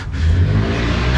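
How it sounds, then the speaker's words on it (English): A loud, close hot rod engine revs with a throaty mid-range roar, holding strong for a brief moment. "is that the sound of a hot rod?"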